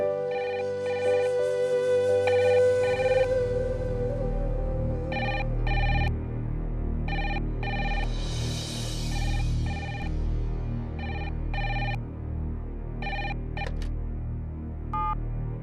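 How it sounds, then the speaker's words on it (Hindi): A telephone rings in repeated short bursts of bright electronic tones, loud and close, over a low steady hum and soft background music. "लगता है शास्त्री जी का ही फोन है"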